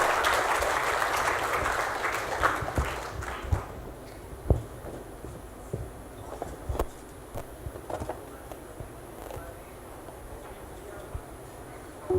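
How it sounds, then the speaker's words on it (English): Audience applause at a university English language department event in Surabaya, a dense crowd clapping that is loud at first, then thins into scattered claps and fades out. "Please give very round applause and let's start our video profile."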